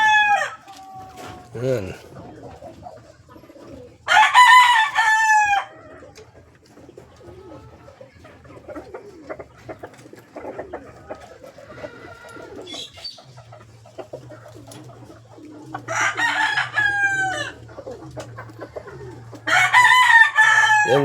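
Rooster crowing and chickens clucking on a Filipino backyard farm, several loud crows in separate bursts with steady clucking and hen chatter between them, a low hum in the background, someone speaking briefly.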